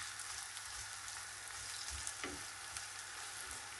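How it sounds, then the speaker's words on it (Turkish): Onions sizzle steadily in butter and oil, a constant bright crackle with a faint stir partway through. "içerisine yemeklik doğradığım kuru soğanı ilave ediyorum ve biraz soteleyeceğim"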